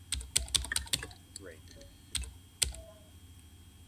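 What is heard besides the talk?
typing a name on a computer keyboard in video game Emily is Away Too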